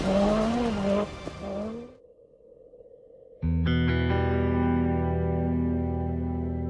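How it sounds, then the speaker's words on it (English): A Group B rally car engine screaming, a high revving wail that shifts pitch, drops away briefly, then returns as a loud sustained howl. "Everyone wanted to watch cars like this one screaming and jumping through the most challenging tracks in the world."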